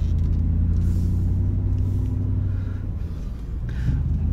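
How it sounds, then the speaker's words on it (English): A 1998 Lexus LX470 SUV pulls away with a deep, steady engine rumble close by, easing slightly before building again. "Put it in drive and take it for a quick drive around the block."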